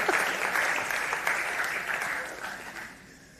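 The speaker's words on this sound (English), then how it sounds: "Shall we give a round of applause to Tarif?" Conference audience applauding a presenter, a steady wash of clapping at moderate level that gradually fades away over about three seconds.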